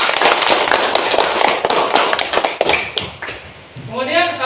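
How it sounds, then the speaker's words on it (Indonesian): A classroom of students claps hands together in a burst of quick, sharp, overlapping claps that fades out, followed by a voice starting to speak. "Baik, tepuk tangan."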